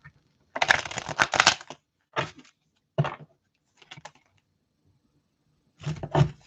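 Large oracle cards shuffled by hand on a small surface: a quiet riffling burst followed by a few short, separated flicks and taps, then another brief flurry, with silence between.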